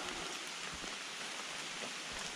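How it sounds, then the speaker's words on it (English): Steady rain falling outdoors, an even broadband hiss with soft scattered drops, fairly faint and continuous with no talking. "It's a little wet, seems to be raining."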